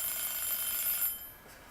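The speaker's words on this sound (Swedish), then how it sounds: "Timern slutade precis" A timer alarm rings with a bright, high, sustained electronic tone that cuts off after about a second, leaving faint background noise.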